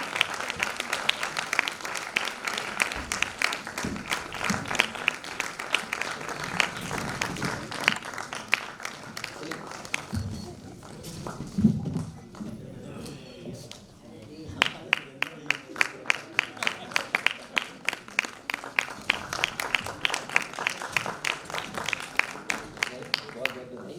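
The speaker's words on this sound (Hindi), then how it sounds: "और तालियां अगर आप लोग अच्छे से बजाते रहेंगे तो आपको बढ़िया आनंद आएगा" Audience applause at a stage event, with dense clapping interrupted partway by a mid-clip break and talk, then resuming as sharper, rhythmic claps.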